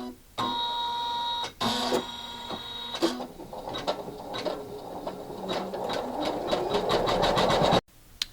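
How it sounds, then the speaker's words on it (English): An embroidery machine stitches a felt cupcake, a rapid mechanical whirring and clatter running almost nonstop with a short pause, loud and close, ending abruptly. "It's going to embroider the bottom of it."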